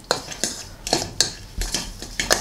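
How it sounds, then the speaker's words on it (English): A spoon clinks and scrapes against a bowl while melted butter is stirred into a breadcrumb mixture. It gives about eight sharp, evenly spaced taps with soft scraping between, close by, and no talk. "So I'm just going to stir this together, and that's going to give us"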